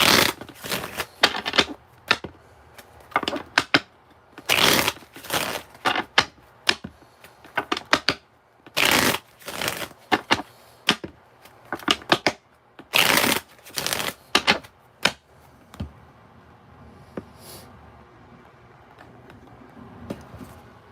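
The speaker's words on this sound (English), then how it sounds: "I'm reading tarot with the bicycle cards." Bicycle playing cards being shuffled for a tarot reading: repeated loud riffling bursts, each a second or so long, separated by short pauses and softer handling, close up with no talking.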